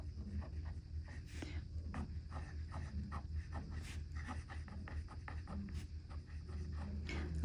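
A Montblanc fountain pen with a broad, wet nib scratching across paper in quick, close strokes, a steady run of short writing scrapes with brief pauses between words.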